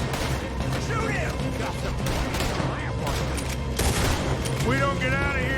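Gunfire in a Red Dead Redemption 2 shootout at a burning moonshine distillery, with repeated sharp shots and crashes over a constant rumble while people shout and talk.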